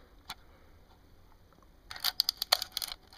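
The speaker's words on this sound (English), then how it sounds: "when you fire the shutter and you don't wind it" A Lomo Sokol Automat camera with no film fires its shutter without being wound, giving a quick, faint cluster of small mechanical clicks and snaps after a near-silent pause.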